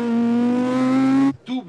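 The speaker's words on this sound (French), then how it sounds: "c'est Jean-Louis Schlesser qui vient de prendre le départ à bord de son bolide, qui porte fièrement le numéro 10, 10 comme Zidane" A rally race car, numbered 10, starts off and accelerates hard with a loud, rising engine note held for over a second, then cuts off abruptly before a short burst of revving resumes.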